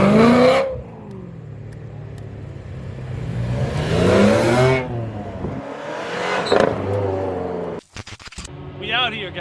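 Cars drive past nearby at a BMW car show, engines revving and swelling then fading, with speech in the background.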